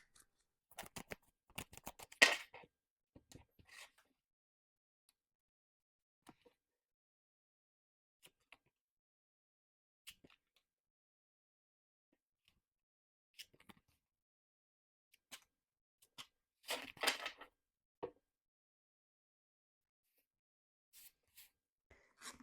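Tarot cards being shuffled and laid out for a monthly reading, heard as soft, scattered papery riffles and flicks with two denser shuffling bursts, close and quiet, no talk.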